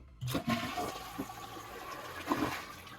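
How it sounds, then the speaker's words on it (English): A household toilet flushes to empty its tank before a fill valve is swapped, with a burst of rushing water at the start and then a steady draining gurgle that carries on through the rest. "we're gonna flush the toilet and drain all this water"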